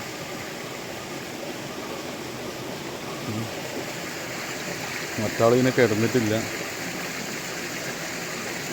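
A village stream swollen with rainwater after a single day of heavy rain rushes in a steady, broad wash, with a person talking briefly over it midway.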